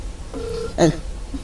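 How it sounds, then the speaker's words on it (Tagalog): A cellphone rings with short electronic tones: one sustained beep and a brief second one, close and clear over a quiet room. "Daytan, agriring ti cellphone nan."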